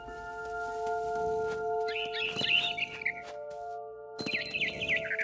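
Two short bursts of barn swallow chirping from the video game What Remains of Edith Finch, quick bright twitters over soft, sustained game music tones.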